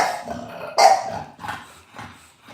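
Dog barking indoors near a caged pet, a loud sharp bark followed by a few softer yips and short bursts at close range, with no talking.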